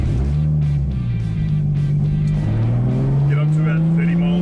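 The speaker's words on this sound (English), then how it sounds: "put the car into first gear, get up a little bit of momentum" A Chevrolet Trailblazer accelerates in first gear, its engine note climbing steadily and holding close under continuous talking.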